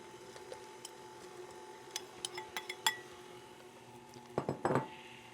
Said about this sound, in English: I'm going to put in the raisins and the nuts at this point.